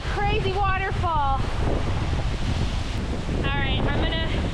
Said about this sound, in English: It's literally like a rainstorm right here. This is insane. What a crazy waterfall.